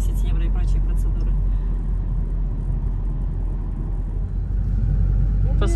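Cars idle and move through a packed parking lot on a fine day, a low continuous engine rumble and whir with vehicles passing nearby, under someone speaking.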